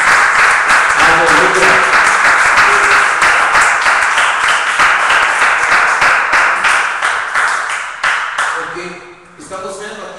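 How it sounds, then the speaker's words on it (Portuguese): A church congregation claps loudly in a dense, sustained burst for about eight seconds, fading near the end, with a voice calling out over the applause. "Vamos aplaudir o Senhor Jesus bem forte."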